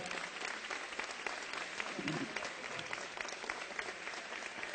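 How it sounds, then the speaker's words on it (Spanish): A crowd gives steady applause for semifinalists at a national competition, a continuous even patter of many hands at moderate distance, with a brief murmur of a voice partway through. "Para todos ellos, un fuerte aplauso."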